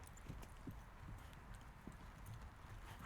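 Several ridden horses walk along in a group, their hooves making a soft, steady clip-clop rhythm at a distance, faint and with no voices.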